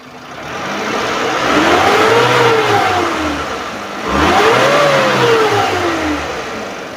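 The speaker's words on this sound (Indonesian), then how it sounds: "Nah sekarang kita coba naikkan RPM-nya" The engine of a 2012 Suzuki Carry Futura 1.5 pickup is revved twice, each time rising smoothly in pitch, then easing back. It is loud, close and steady, with no voices.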